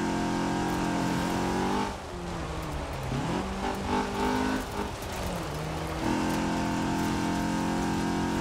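Stock 1980 Fiat 124 Sport Spider in Forza Horizon 4 revving loudly and steadily, with the engine note dipping and shifting through the middle before climbing back to a sustained high-rpm drone.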